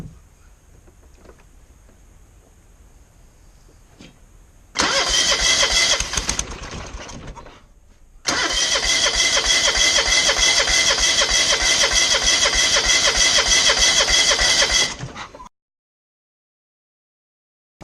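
A small lawnboard motor cranks and catches, firing loudly in two bursts separated by a brief pause, then running steadily at close range before cutting off abruptly into silence.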